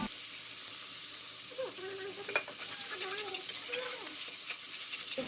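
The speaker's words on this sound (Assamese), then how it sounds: "এতিয়া মই পেষ্ট কৰি থোৱা আফুগুটিখিনি ইয়াত মই ভাজিবলৈ লৈছোঁ" Poppy seed paste sizzles and fries in hot oil with nigella seeds in a wok for a fish dish. A steady close sizzle runs throughout, with scraping stirs in the middle.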